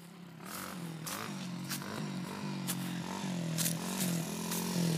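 A Yamaha TTR 90cc dirt bike engine runs nearby, a low buzzing drone that rises and falls in small revs, with scattered clatter and scraping sounds over it.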